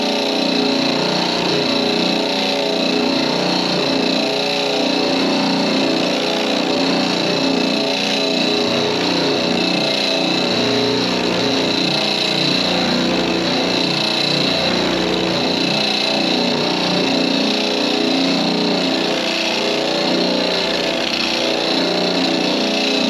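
A Harbor Freight surface conditioning tool spins its drum in one direction against painted lettering, giving a loud, steady, continuous motor whine and abrasive grinding that holds unbroken throughout, close to the listener with no voices.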